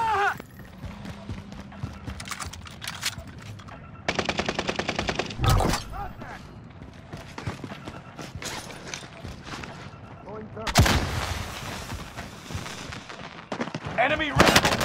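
Video game firefight with rifle gunfire: bursts of rapid automatic shots come in clusters between single cracks and mechanical clatter, some close and loud, others farther off, with shouted callouts among the combat sounds.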